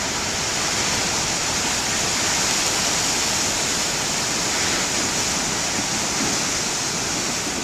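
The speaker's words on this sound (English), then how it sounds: "Boy, I can't complain about the waves today." Huge ocean waves break on the shore, producing a loud, continuous roaring rush of surf that fills the whole span evenly, close and with no talking.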